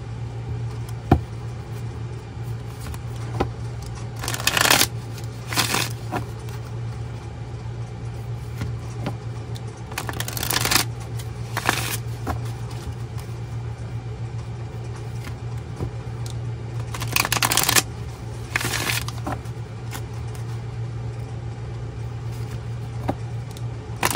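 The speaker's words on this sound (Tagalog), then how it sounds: "Then, balasahin naman po natin ito." A deck of playing cards being shuffled, heard as three short riffle bursts spaced several seconds apart over a steady low hum and quiet room noise.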